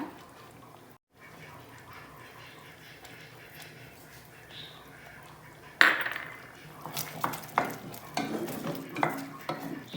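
Apple pumpkin halwa with cinnamon cooking in a pan, quiet at first, then a spoon scrapes and stirs in bursts of clinks and soft sizzling that grow busier toward the end.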